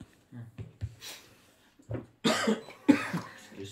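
A person coughs several times from the cold, in short bursts with pauses between them and a few louder, harsher coughs toward the end, close and otherwise quiet.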